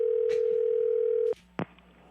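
A telephone dial tone hums as a steady, loud tone for over a second after the receiver is put back, then cuts off, leaving a brief click and faint background noise.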